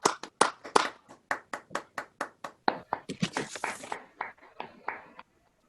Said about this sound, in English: I can hear some social distancing applause and clapping for you, Jeremy.